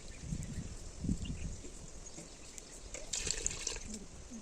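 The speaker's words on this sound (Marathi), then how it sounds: "आता आपलं पाणी थोडं टाकायचं टाकते मी याच्यात" Hot water is poured into a village-style mutton rassa, giving a faint, soft splashing and pouring sound that lasts a few seconds at low volume with no talk.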